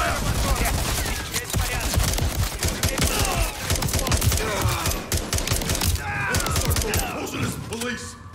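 Sustained automatic gunfire in a police shooter video game, dense rapid bursts from several weapons cracking continuously for over eight seconds, loud and close, with shouted voices mixed underneath.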